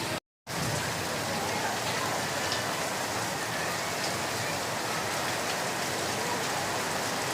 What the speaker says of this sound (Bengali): খুব সুন্দর একটি বৃষ্টি হচ্ছে